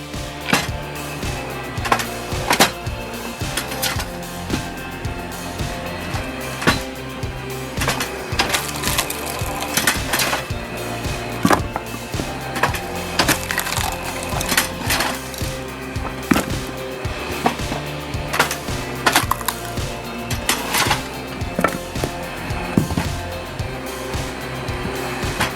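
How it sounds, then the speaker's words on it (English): Homemade automatic firewood processor splitting logs, a steady mechanical din with repeated sharp cracks and thuds as wood is cut and split, loud and continuous with no talk. "this DIY firewood processor is so practical"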